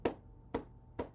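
Three sharp, evenly spaced hand claps about half a second apart, fairly quiet, from a circulation and heart health exercise class, with no talking over them.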